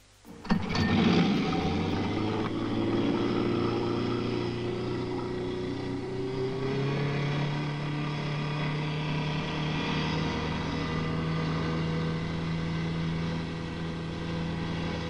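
A homemade glider-type light plane fitted with a 30 hp small car engine, also called the Subaru Plane, starts up and runs: a brief burst at startup gives way to a steady, droning engine hum, fairly faint and continuous.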